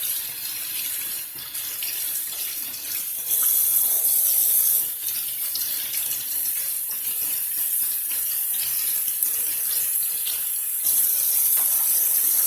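Tap water gushes steadily onto a printed circuit board from a Pole Position arcade game as it is rinsed at a sink, a continuous close hiss and splash with no one talking.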